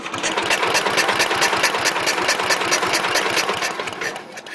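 Kohler K241S 10 HP single-cylinder engine turned over by hand, producing a fast, continuous mechanical clatter that holds steady for several seconds and fades slightly at the end, with no voices.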